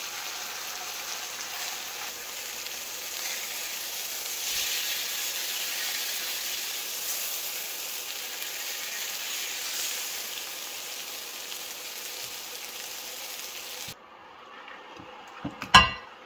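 A steak searing on a grill pan gives a steady, soft sizzling hiss that runs unbroken for about fourteen seconds, then cuts off and leaves a few faint clinks.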